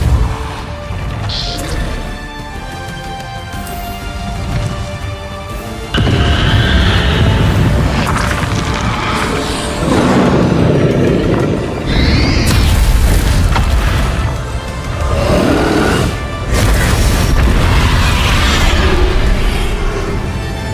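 Loud, heavy magical blasts from the Bombarda spell in Hogwarts Legacy go off in a dense sequence of booming, crashing impacts, each followed by a rumbling tail, with no speech.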